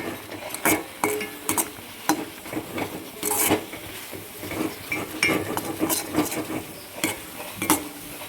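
A spoon scrapes and taps against a pan while semolina kolukattai dough is stirred with ghee, giving a steady run of close, irregular scraping strokes and clinks.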